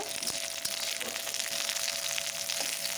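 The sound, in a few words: cauliflower frying in a pan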